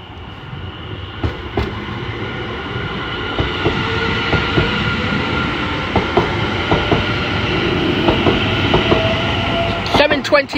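A Greater Anglia Class 720 electric train pulls out of Cheshunt station, bound for Hertford East, with a rising motor whine, a steady rumble and rhythmic wheel clicks over rail joints, close and building in loudness, with faint station noise.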